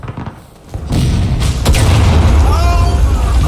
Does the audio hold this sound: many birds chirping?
no